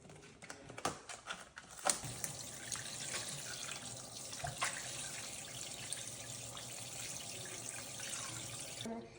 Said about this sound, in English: I'm going to be washing my gizzard with some vinegar or some lime and salt.